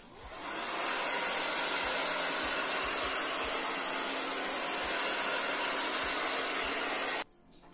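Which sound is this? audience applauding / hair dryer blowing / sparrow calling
hair dryer blowing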